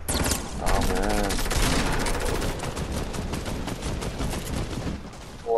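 Sustained rapid automatic gunfire in a shooter video game, a dense close barrage of overlapping shots that rattles on for several seconds, with a voice briefly underneath.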